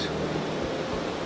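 Rising-tide ocean surf on a Mexican beach at dusk, a steady broad wash of waves with low rumbling swells, no voices.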